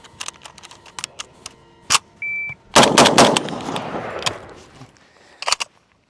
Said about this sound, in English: M1 Garand, 30-06.